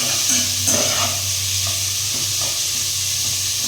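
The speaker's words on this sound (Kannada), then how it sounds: "ಆವಾಗ ಸ್ವಲ್ಪ ಉಂಟಲ್ಲ ಬೇಗ ನೀರುಳ್ಳಿ ಫ್ರೈ ಆಗ್ತದೆ" Onions frying in a pan with a steady, loud sizzle, while a utensil stirs and scrapes them in a few brief knocks and scrapes over the continuous hiss.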